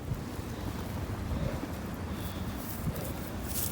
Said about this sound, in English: Sorry if the wind is getting you folks